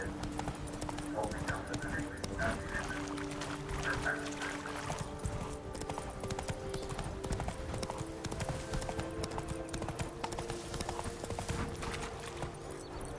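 The horse Roach gallops in the Witcher 3 video game, its hooves clip-clopping in a steady, fast rhythm at moderate loudness throughout.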